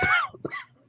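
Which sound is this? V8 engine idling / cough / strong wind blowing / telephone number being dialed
cough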